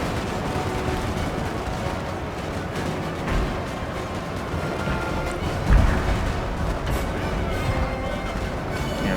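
Distant booms and crackling volleys of artillery and musket fire roll on in a Napoleon: Total War battle, with a thick layer of gunfire and one sharper thump partway through.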